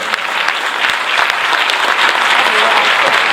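A theatre audience at a concert applauds a singer, a dense, loud wash of clapping from a large crowd that holds steady throughout, with voices faintly mixed in.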